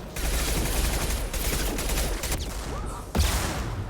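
Gunfire in Mass Effect Legendary Edition, dense rapid automatic bursts running almost continuously with a heavier impact near the end, loud and close.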